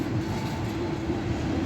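A long freight train rolls through a big railroad crossing, a steady loud rumble of wheels and cars passing close by with a continuous, even roar and no talking.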